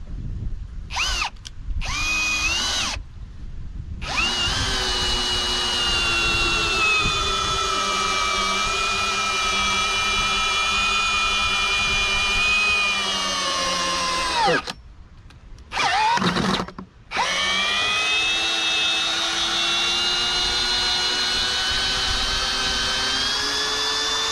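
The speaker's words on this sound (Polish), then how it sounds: "bez problemu wkrętarka i wkręt 30 centymetrowy" A Parkside cordless drill drives a 30 cm screw in long, loud whining runs whose pitch sags under load, broken by a few short pauses where the trigger is released.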